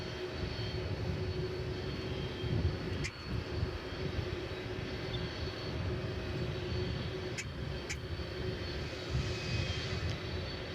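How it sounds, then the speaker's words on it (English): Boeing 747-400 freighter jet at DFW Airport, a steady broad roar of jet engines with a faint high whine, fairly quiet and distant, sustained throughout with no voices. "It's a 747-400 freighter."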